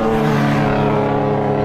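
A moped scooter engine passes close by on a French road, with a loud, steady buzzing drone throughout and no voices.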